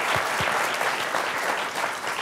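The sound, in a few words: audience applause for a panel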